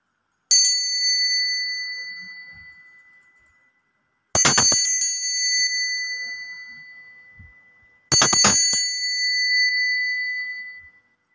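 A bell rings three times, spaced about four seconds apart, marking the start of a zodiac tarot reading. Each strike is a bright metallic ding that rings on and fades slowly, with silence between strikes.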